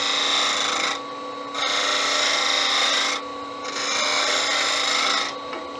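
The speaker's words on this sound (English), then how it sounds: "This is where the wings that I put on spindle gouge just come in very handy." A spindle gouge with ground-back wings cuts wood on a lathe, making a steady rasping hiss in three long passes separated by brief quieter pauses as the tool lifts.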